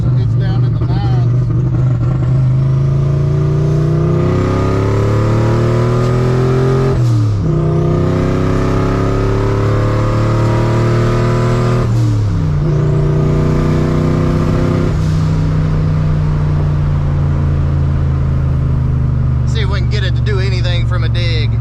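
A Ford F150 with a VMP Odin supercharger, running rough on first start-up, revs repeatedly, its pitch rising and dropping in several loud, close throttle blips over a steady idle.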